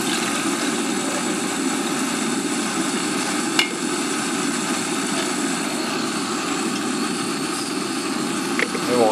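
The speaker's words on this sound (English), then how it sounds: "It won't take long to heat this up. That's my little Burton cook stove." A small Burton portable camp cook stove burns outdoors by a creek, giving a steady, loud roaring hiss that holds unbroken throughout, with a faint tap or two on top.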